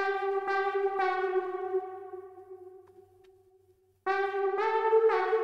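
Bright synth lead preset from FL Studio playing a simple melody of sustained, harmonically rich notes, one held tone fading out before a short gap and a new phrase returning at full level, with no talk.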